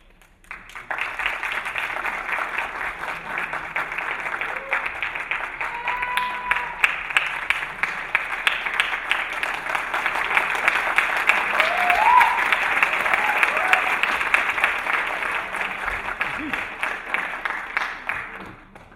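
Sustained applause from a theatre audience after a stage play, broad and steady for nearly the whole stretch, with faint voices threaded underneath.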